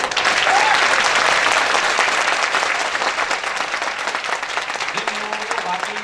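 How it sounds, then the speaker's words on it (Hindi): A large audience at a corporate training session applauds steadily throughout, a dense continuous clapping that fades slightly toward the end, with a few voices faintly audible beneath it. "एक बार दिल से उनके लिए भी ताली बजा दो।"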